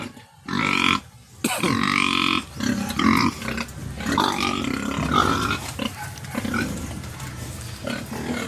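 Pigs being readied for a fiesta grunt and squeal loudly up close, with irregular bursts of rough snorts and throaty grunts, a brief pause near the start, then continuous overlapping calls.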